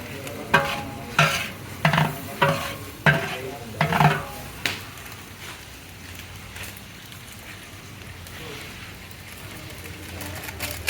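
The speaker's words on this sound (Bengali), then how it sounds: "এবার দেওয়া হচ্ছে বিরিয়ানি মশলা সব দেন" Biryani with biryani masala stirred in a large pot for a big religious feast, a run of about eight scraping strokes in the first five seconds, then a low steady simmer.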